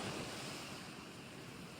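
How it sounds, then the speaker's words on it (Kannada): Sea waves crash on a beach in Udupi, a soft, distant, continuous surf rumble mixed with wind, with no voices. "ಯಪ್ಪ ಅಲೆಗಳೆಲ್ಲ ಹೊಡಿತೈತೆ"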